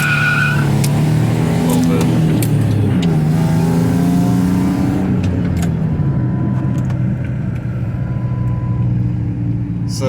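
A 10th-generation Ford F-150 pickup with a 4.2 V6 revs hard while drifting, its engine note rising and falling loudly up close, with tires squealing and a voice talking over parts of it.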